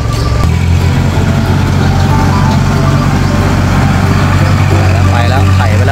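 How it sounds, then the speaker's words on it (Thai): Kubota farm tractor engine running close by, a loud steady low diesel drone with a constant hum, while someone talks over it throughout. "คูโบต้าครับรถไถของเราคูโบต้า"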